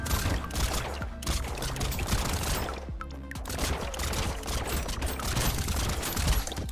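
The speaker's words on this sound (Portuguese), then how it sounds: "atirar assim com um lançador nuclear" A nuclear launcher firing rapidly in the video game Brotato, a relentless loud fusillade of blasts and explosions with a brief dip midway before the barrage resumes.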